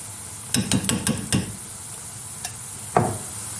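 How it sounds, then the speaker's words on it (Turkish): Spoonful of pepper paste sautéed with browned onions in a pan, heard as a low background sizzle broken by a quick run of stirring scrapes and taps, then a couple of later knocks. "Salçayla beraber güzelce salçamın kokusu çıkıncaya kadar kavuruyorum."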